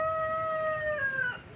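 A single rooster crow, a drawn-out tonal call that falls slightly at the end, at moderate distance over faint background noise.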